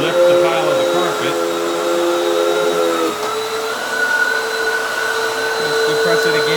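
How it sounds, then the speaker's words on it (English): A Hoover Windtunnel 3 High Performance Pet upright vacuum running on carpet, a loud continuous motor whine and airflow roar that dips slightly in pitch partway through, close and steady. "Suction is nice and strong to lift the pile of the carpet."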